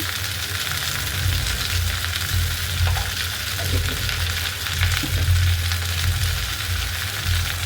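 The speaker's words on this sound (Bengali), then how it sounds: "আবার ভালো করে ভাজি করে নেবো মশলার সাথে।" Okra fries in a pan with salt, turmeric and chilli powder while being stirred, a dense continuous sizzle close up with scraping turns, no talking.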